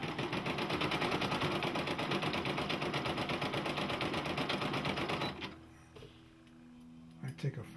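Brother embroidery machine stitching a design, a loud fast rhythmic needle clatter for about five seconds that stops abruptly, leaving quiet room tone with a few light clicks; a voice talks briefly near the end.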